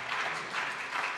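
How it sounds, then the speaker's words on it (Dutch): Brief applause in a morning council meeting, a soft, continuous patter of several people clapping for about a second, fairly distant and low in level. "Applaus, applaus."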